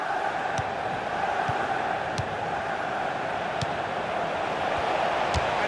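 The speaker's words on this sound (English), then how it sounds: "the crowd are getting very restless" Restless stadium crowd in a FIFA 16 UEFA Champions League group-stage match, a steady dense murmur of many fans with scattered sharp thuds, continuous and fairly loud.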